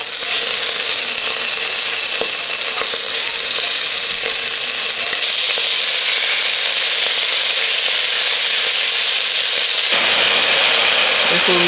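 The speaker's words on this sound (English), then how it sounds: "I'm gonna get a nice sear on these" Beef pieces sear in hot oil for a stew, a loud continuous sizzle and crackle that flares sharper near the end.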